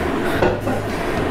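Fire-roasted salsa is stirred in a bowl, giving close scraping and soft clinks of a utensil against the dish. The whole sound is very short.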